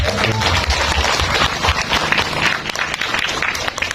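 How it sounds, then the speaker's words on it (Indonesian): Dense applause from a large crowd at a village gathering fills the whole clip, steady and loud, with a few voices mixed in. "Ya, bisa tepuk tangan semua."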